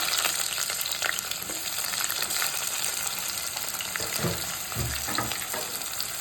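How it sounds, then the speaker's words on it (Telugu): Onions frying in three spoons of oil with mustard seeds and cumin, a constant hissing sizzle up close, broken by low scraping thumps of a spoon stirring the pan near the end, no voices. "ఉల్లిగడ్డలు వేసుకోవాలండి."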